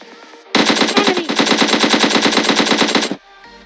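Rapid automatic AKM rifle fire in a mobile battle royale shooter, one loud continuous burst of closely spaced shots lasting a few seconds.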